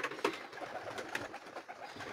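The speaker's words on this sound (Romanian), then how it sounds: "acela e porumbelul care tot îmi dă cu ciocul în ochi" Domestic pigeon cooing close by in a loft, with several short throaty coos and soft calls over a faint background hum.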